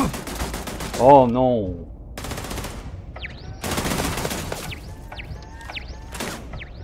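Turret gunfire in Starfield: several loud bursts of rapid automatic fire separated by short pauses, with sci-fi weapon chirps, while a man briefly exclaims in French.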